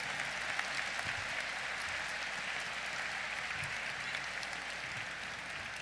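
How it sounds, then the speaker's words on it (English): Graduates at a spring commencement ceremony give the faculty sustained applause, a broad even wash of clapping from a large crowd that holds steady throughout. "please show your thanks and applaud these dedicated individuals who have guided you"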